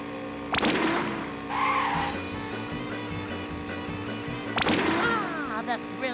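A car driving and skidding in the SpongeBob SquarePants: Creature from the Krusty Krab video game, engine hum with two sharp tire screeches and whooshes, under game music and a character voice.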